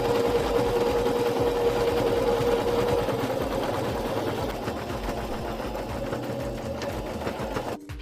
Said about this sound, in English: I machine stitch along 3 sides